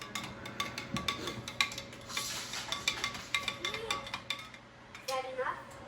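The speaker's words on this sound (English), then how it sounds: "I'll stir this one. And then I'm gonna stir this one." A utensil stirs a crystal-growing solution in containers with repeated light clinks and scrapes against the sides, in an irregular rhythm. Someone talks now and then over the stirring.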